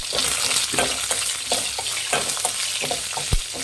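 Biryani masala frying in a pan as shahjeera and green chillies are stirred in, a steady loud sizzle broken by repeated scraping strokes of the spoon and one sharp knock near the end.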